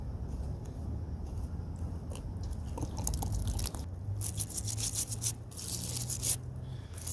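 A plastic in-ground sprinkler head being unscrewed from its riser outdoors, giving scraping, gritty crunching twists that grow louder toward the end, over a low steady background rumble with no talking.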